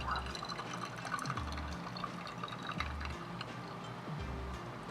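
Hot water pours steadily over Yunnan rose tea leaves for a fourth steep, a continuous liquid splash and fill running through the whole clip at close range, with low rhythmic thumps underneath.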